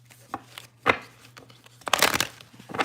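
Tarot deck being shuffled by hand in bursts of riffling and slapping card sounds, with quiet gaps between, close and moderately loud, a steady low hum underneath.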